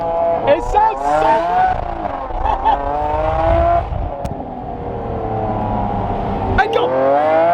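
A Lamborghini Aventador with a newly fitted aftermarket exhaust revs loudly up close, a rough, throaty engine roar with rising and falling pulls, while excited voices talk over it.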